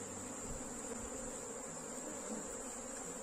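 Honeybees swarm around an opened hive box that has been rubbed with onion, a steady, dense buzzing drone filling the air throughout without pause, close and even in level.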